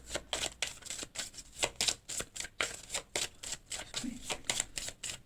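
Cards riffled and shuffled by hand for a tarot-style reading, a quick run of crisp, close flicks in steady bursts, loud and alone.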